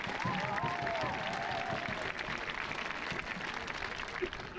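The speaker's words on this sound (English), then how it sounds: "Give him a huge round of applause." A graduation audience claps for a honoree, a fairly faint, distant wash of applause with crowd noise and some voices over it.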